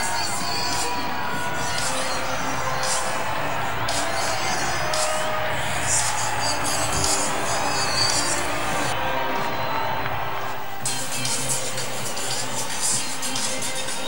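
A large stadium crowd at a Copa América Centenario quarter-final between Argentina and Venezuela in the USA, mostly Argentina supporters, roars and cheers in a steady, dense wash of noise throughout, with no clear breaks.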